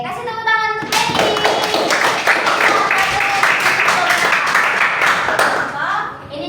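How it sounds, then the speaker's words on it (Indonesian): A classroom of children claps for a student, a sustained burst of loud, dense applause lasting several seconds after a brief opening, with some young voices mixed in. "kasih tepuk tangan untuk Bailey"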